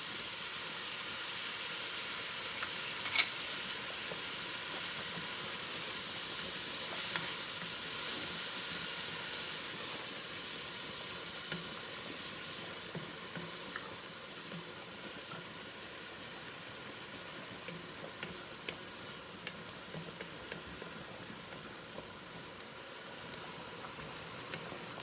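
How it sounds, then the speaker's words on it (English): Minced garlic sizzles in a hot pan while cooking spaghetti meat sauce, a steady faint hiss with soft crackles running continuously and alone. "Then we're going to add our garlic, our minced garlic."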